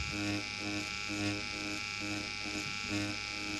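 An electric tattoo machine buzzes close up as its needles skim the surface of a piece of fruit, a steady, bright, motor-driven hum that pulses slightly in strength.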